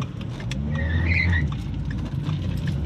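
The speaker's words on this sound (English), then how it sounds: "this thing can squeal the wheels" A Mustang with a four-speed gearbox squeals its wheels, a brief high tyre screech over a rumbling engine and road noise, close and loud.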